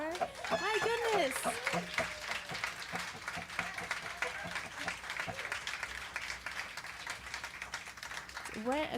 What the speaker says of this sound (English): could we just give a huge round of applause for all the artists that came before